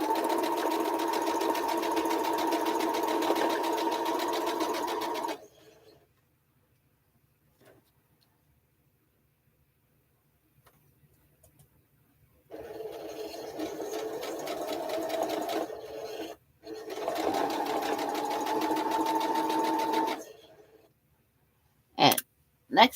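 A sewing machine stitches Swoon quilt blocks together in long steady runs, a loud continuous whir that stops for a long silence and then resumes twice, ending with a few sharp clicks.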